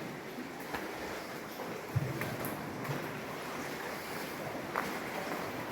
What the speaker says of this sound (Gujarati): હવે એ દરિયો આવી ગયો છે.